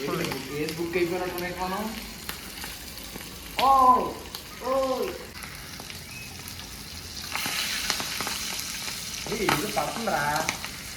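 Chicken feet fry in hot oil with a constant close sizzle and scattered sharp pops, while people talk over the cooking throughout.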